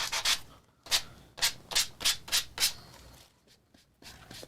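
Short, crisp scrubbing strokes of sandpaper on a coaster come in uneven bursts, two early and a run of five or six in the middle, with quieter handling rustle between, close by and without voices.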